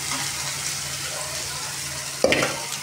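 Onions frying in a pan for poha, a steady close sizzle with soft stirring, then a brief clink of the utensil against the pan near the end.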